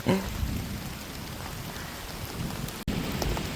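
Steady first rain of the season in Konkan pours down in a thick, even wash of sound, briefly cutting out near the end before resuming.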